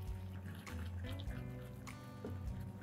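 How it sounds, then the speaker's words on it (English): A whisk stirs soft salted butter and oil in a bowl for a cake batter, making a continuous wet, sloshing churn close up. "I'm just going to mix this with my whisk"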